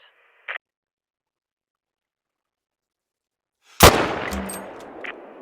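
A single sharp hunting-rifle shot rings out in a video game, loud and close, followed by a fading echo tail and faint clinks, after a long silence broken only by one brief earlier blip.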